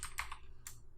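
Computer keyboard being typed on: a few quick, close, quiet key clicks in an uneven burst, then a brief pause and another couple of taps, with no talking.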